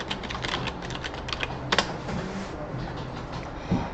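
Quick bursts of keystrokes on a computer keyboard typing into a search box, soft close clicks in an irregular rhythm with a short pause partway through.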